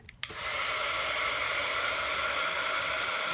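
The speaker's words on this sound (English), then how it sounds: "I'm going to dry this a little bit with the heat gun" A heat gun starts with a click and then blows a steady, loud, hissing whoosh of hot air while drying paint on a doll, holding constant with no talk.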